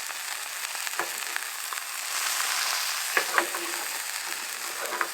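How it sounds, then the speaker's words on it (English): Cooking oil dumped into a camp fire pit sizzles and crackles steadily, with a few sharper pops and spits rising above the hiss. "I dumped some of that oil into the fire pit."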